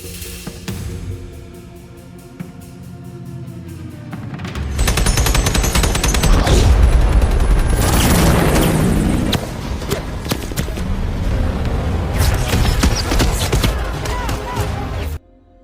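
Heavy gunfire crackles in rapid bursts with booming blasts, loud and continuous over a dense rumbling battle din, cutting off abruptly at the end.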